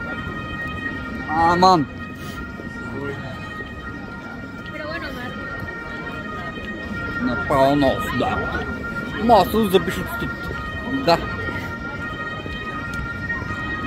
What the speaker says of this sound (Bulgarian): Тази линейка баш през центъра.